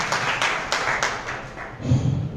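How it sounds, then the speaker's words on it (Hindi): Audience at a celebration in a senior government school in Bhadra gives applause to welcome a speaker, a short burst of clapping that fades into quieter sound. "जोरदार तालियों के साथ आपका अभिनंदन।"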